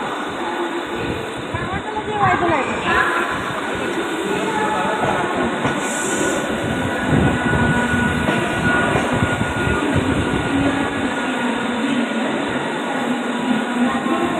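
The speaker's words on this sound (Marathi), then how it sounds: "हे बघा नवीन लोकल आले।" A Mumbai local train rumbles and hisses steadily as it pulls in, loud and close, with people talking over the noise.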